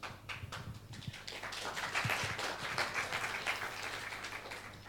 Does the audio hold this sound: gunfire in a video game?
no